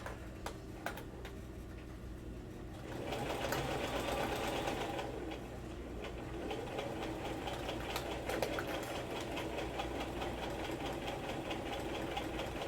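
A sewing machine stitches steadily with a rapid mechanical ticking rhythm, close and continuous, picking up slightly in loudness after a few seconds.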